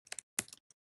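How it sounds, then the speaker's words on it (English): Quick clicks on a computer keyboard during office document work, two brief clusters of keystrokes followed by a single tap, close and moderately quiet, with no voices. "Here's my great typing"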